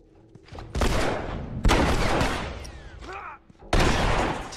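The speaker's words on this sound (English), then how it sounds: "Gunshot!" Gunfire in the video game The Last of Us rings out as three loud, booming blasts with long reverberant tails, close and heavy, with a brief voiced shout between them.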